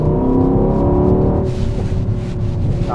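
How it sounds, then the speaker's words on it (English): A Mercedes SUV with a twin-turbo 4-litre V8 accelerates hard, a loud deep engine drone rising in pitch with steady harmonic tone, heard up close with no talk. "Acceleration is pretty damn quick"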